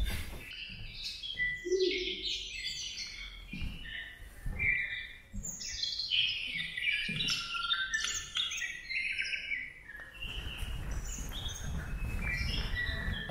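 Bird chirps and tweets fill an art installation room called the Vogeltjeskamer, a work by Driessen and Verstappen in a country house, with many overlapping small calls at moderate level throughout and steady room noise underneath.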